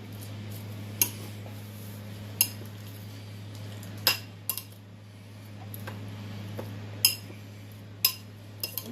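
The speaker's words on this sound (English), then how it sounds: "And I'm going to give this a stir." A utensil stirring shrimp fried rice in a pan: sharp metallic clinks and scrapes at irregular intervals, close by, over a steady low kitchen hum.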